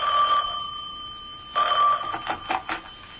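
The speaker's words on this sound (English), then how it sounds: "I was barely settled into my mother's house when the phone rang." A telephone rings as a radio drama sound effect: a steady electronic tone, then a louder burst of bell rings followed by several short, fading rings, with no voices.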